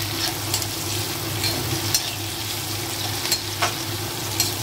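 Onion and ginger frying in a pan while being stirred, giving a steady close sizzle with scraping stir strokes and occasional sharper pops and clinks throughout, without any talk.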